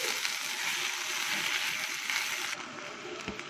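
Rice stir-frying in a pan as the filling for stuffed pigeon, with a continuous close sizzle and light scraping that drops in level near the end, and no one talking.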